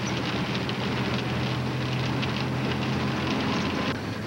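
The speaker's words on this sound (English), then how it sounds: "Now, right now, it's raining." Rain falling in Grants, New Mexico, heard as a dense, constant hiss with wind rumble buffeting the microphone, loud and unbroken throughout.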